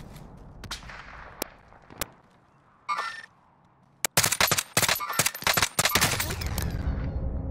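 Gunfire in the battle royale shooter Warzone: scattered sharp single shots, then a burst of several rapid cracks around the middle, followed by heavy close automatic bursts crowding the final seconds, loud and without speech.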